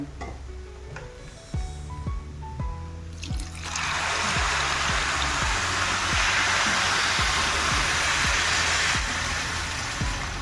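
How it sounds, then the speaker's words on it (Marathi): Hot water poured into a pan of spiced rice after salt has been stirred in, a loud, steady rush and trickle of liquid starting a few seconds in and continuing close up, after a few clinks and quieter stirring sounds. "आणि आता आपण ह्याच्यामध्ये टाकणार आहोत गरम पाणी"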